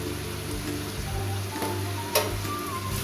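Chicken gizzard pepper fry sizzles quietly in a pan as it is stirred, a soft steady frying crackle with a few light scrapes and one sharper clink, close but faint.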